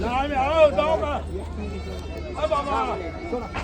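Goats bleat repeatedly amid a busy livestock market crowd in Maharashtra, with people talking and bargaining close by over a low background hum.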